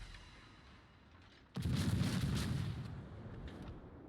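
Naval guns fire in a warship battle game, one sudden heavy boom breaking over a quiet background and rolling on into a long, loud rumble.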